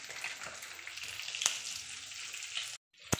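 Fish sizzles and spits in hot oil in a pan at home, a steady close crackle with a sharp pop near the middle, a brief drop to silence, then another loud clatter at the end.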